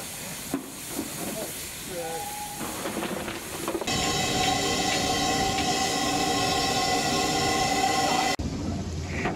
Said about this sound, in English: Shunting the freight in Castlecroft yards, just how the little engines would have been used in a practical sense.